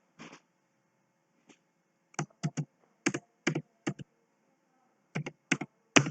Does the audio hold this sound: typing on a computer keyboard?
yes